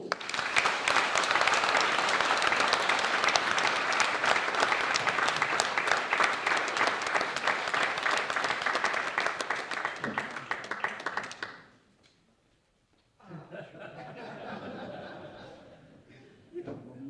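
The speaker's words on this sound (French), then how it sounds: "Je vous demande d'applaudir et de soutenir très fort la candidate" Conference audience gives a long, dense round of applause for an election candidate, loud and sustained for about eleven seconds, then a brief silence followed by a softer burst of clapping and murmuring.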